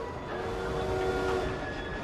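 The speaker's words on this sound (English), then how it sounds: "The target's getting away on the train." Train in an Assassin's Creed game set in the railway era, a steady rumbling rush of a moving train with rolling wheel and carriage noise and a faint sustained tone, close and continuous.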